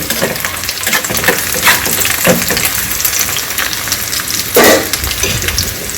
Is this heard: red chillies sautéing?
yes